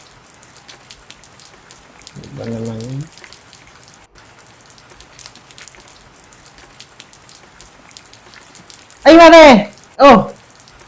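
Heavy rain falls as a steady, soft patter underneath everything, while short exclaimed voices break in now and then.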